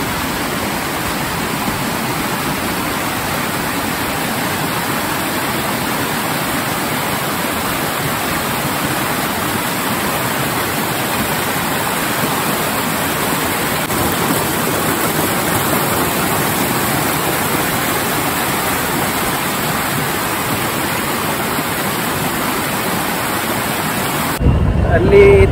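Roadside waterfall near Jog Falls, Karnataka, rushing as a steady, loud broadband roar that holds unbroken for the whole stretch, with a brief change at the very end.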